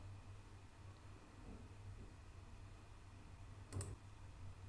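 A single faint computer mouse click near the end, clicking a load button in a spreadsheet program, over a quiet hiss of room noise.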